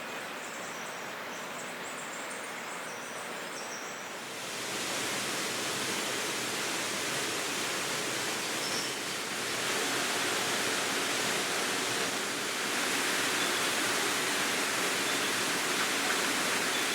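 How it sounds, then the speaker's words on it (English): Rushing water from a waterfall at the foot of a steep track in the Hunter Region of Australia hisses steadily at a distance, swelling louder partway through as the walker draws nearer, with faint birdsong at the start. "You can hear the water. Sounds like a fair bit too."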